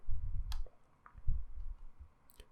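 A computer mouse clicks a few times, sharp faint taps spaced apart over a quiet background, without any talking.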